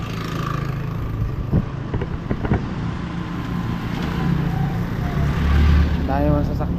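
Road traffic rumbles past outdoors, a steady engine drone that swells as a vehicle nears toward the end, with wind buffeting the microphone and people talking over it.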